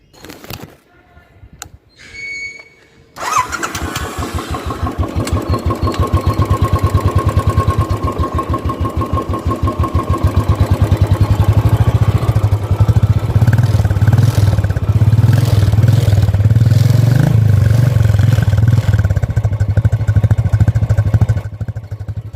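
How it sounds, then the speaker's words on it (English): A Royal Enfield Classic 350 carbureted motorcycle engine starts, then idles with a loud, clattering rumble before revving higher and settling back, close up and continuous. "I'll show you how the engine sounds now."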